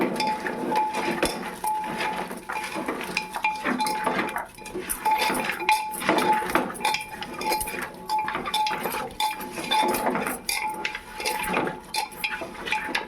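Goat leg meat is mixed by hand with spices in a metal pot, a close, busy run of clinks, scrapes and knocks against the pot walls that continues unevenly without talk.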